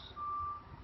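A steady electronic reversing beep, one long tone then another starting at the end, over low rumbling traffic-like background noise.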